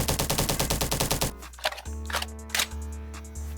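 Rapid automatic assault rifle fire from the online shooter game Bad Business, a fast burst of loud shots for over a second, then a few scattered single shots and mechanical clicks over a steady tonal game hum.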